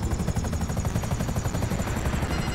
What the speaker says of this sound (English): this is a helicopter that allows you to drop off the radar entirely